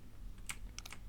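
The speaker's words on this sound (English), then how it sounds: "I'm trying not to like bang on the keys or anything, but how do you use a keyboard quietly?" A new, loud computer keyboard gives a few quick keystroke clicks, fairly faint and close, with no talking.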